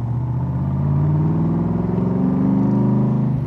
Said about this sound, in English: Now I'm literally just barely laying my foot on the accelerator. As you can see, it's accelerating right up, no problem.